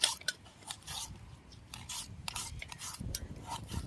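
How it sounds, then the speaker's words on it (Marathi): A knife slices through an onion on a cutting surface at a riverside cooking spot, giving soft, close, irregular rasping cuts that come in short bursts with brief gaps and no talk. "कांदा कापून घेते"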